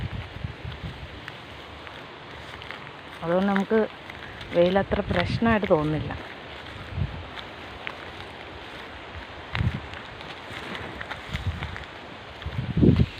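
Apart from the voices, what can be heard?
strong wind blowing outdoors at midday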